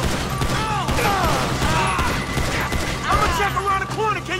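Rapid gunfire in Grand Theft Auto V crackles steadily under raised voices and a busy, constant layer of game noise.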